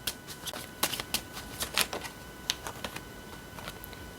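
Tarot cards are shuffled by hand, giving a string of crisp, irregular riffling snaps and slaps up close, with no talking.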